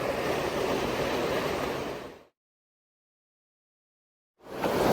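Open-ocean waves slosh and rush around an 85-foot Pacific Mariner yacht slowed to a crawl in deep water, a loud continuous wash that cuts out completely midway and then returns.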